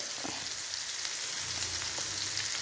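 Sardines fry in a pan with a steady, close crackling sizzle that runs through the clip, and no voices are heard.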